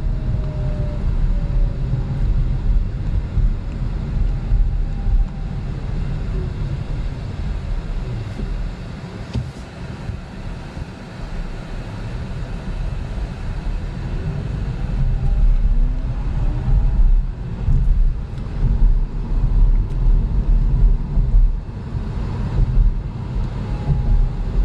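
Interior ride noise of a 2022 Chevy Bolt EUV electric car on the road: a steady low rumble of tires and wind with faint shifting whines, continuous and unbroken, with no one talking.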